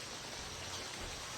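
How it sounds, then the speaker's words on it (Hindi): Heavy rain pours down steadily, a dense, even, continuous hiss of drops with no pauses and no talking. "बहुत तेज़ बारिश"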